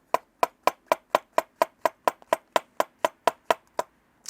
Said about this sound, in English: It's how I was shown how to chop mushrooms